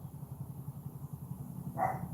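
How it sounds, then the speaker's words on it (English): A dog gives a single short bark near the end, rising over a steady low rumble in the background. "With just a scary bark."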